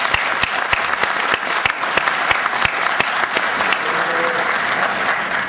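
A forum audience applauds steadily for several seconds, with crisp individual claps standing out against a dense wash of clapping.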